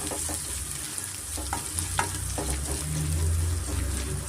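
Crushed ginger frying in hot oil in a home kitchen for mango chitranna, a steady crackling sizzle with occasional stirring clicks, close and continuous, no talking.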